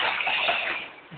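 Cold waterfall water splashing during washing at Harishchandragad, a dense close rushing splatter that fades slightly toward the end.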